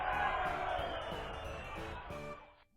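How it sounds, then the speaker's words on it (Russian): A crowd shouting sound effect plays as a hover sound on an Adobe Muse web page element, a dense roaring wash of many voices held steady for about two seconds before quickly dropping away. "Толпа какая-то кричит."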